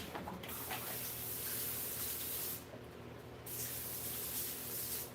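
Water is sprayed onto a freshly cut geode or agatized coral rock, a steady hissing spray close by that pauses briefly partway through and then resumes.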